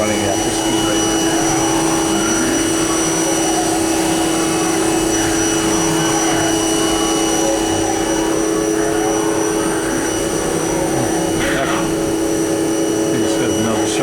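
A Haas Super Mini Mill 2 vertical machining center running a program, with a steady loud whine and motor hum, tonal spindle sweeps rising and falling, and a brief higher burst near the end, with no talk.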